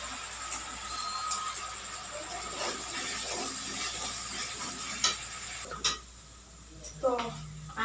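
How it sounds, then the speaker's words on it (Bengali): Spice paste being stirred and fried in a pan, a soft steady sizzle with occasional spoon clicks and scrapes against the pan, while a person talks over it. "মশলাটা ভালোভাবে এবারে কষে নেব।"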